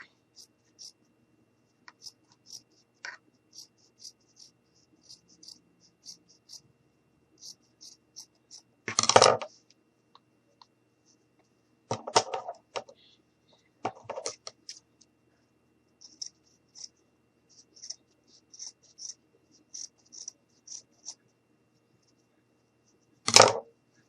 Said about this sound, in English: So we're going to take some more felt and we're just going to cut it.